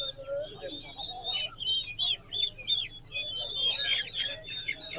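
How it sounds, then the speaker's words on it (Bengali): A large Pakistani breed chicken clucks in short bursts, with higher chirping and squawking from other birds around it at a bird market, fairly close. "বিশাল বড় একটা পাকিস্তানি মুরগি"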